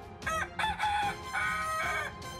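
A rooster crows loudly and close by in a strained, wavering call that breaks into several rising and falling phrases, with no other sound around it.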